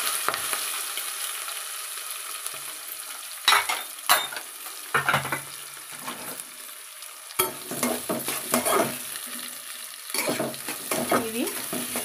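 Urad dal, chana dal, green chilies and onions fry in hot oil with crackling sizzles and spatula stirs, pan scrapes and clinks cutting in intermittently, fairly close with no talk.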